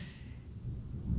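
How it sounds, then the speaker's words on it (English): Thunder during a storm in Cambodia: a low, distant rumble that builds toward the end, steady and alone with a faint hiss of wind and rain. "Thunder happening."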